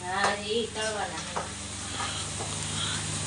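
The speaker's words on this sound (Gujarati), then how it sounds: "કેમ હજી સિંગ દાણે તળવાના છે ને" A steady, soft sizzle of peanuts frying in hot oil runs throughout, with a few voices talking briefly at the start.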